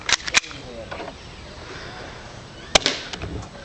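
A cheap $15 Walmart airsoft pistol fires at a cardboard box, giving a few sharp, separate snaps with light impacts amid faint background sounds, close to the listener.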